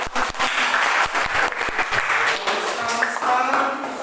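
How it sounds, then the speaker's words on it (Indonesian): Applause from a classroom audience after a student group's presentation, steady, dense clapping that fills the room at close range and holds loud for the whole stretch. "Baik, tepuk tangan."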